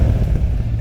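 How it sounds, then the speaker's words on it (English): HSV VF GTS Commodore with a special exhaust rumbling at a low, steady idle, a loud deep burble lasting under a second with no speech over it. "It's got a special exhaust,"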